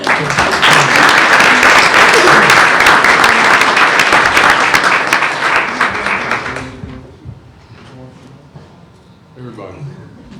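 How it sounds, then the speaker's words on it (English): Audience applause at a public school board meeting, loud dense clapping for about seven seconds that then stops abruptly, leaving a quieter room with people talking. "Let's give them a round of applause."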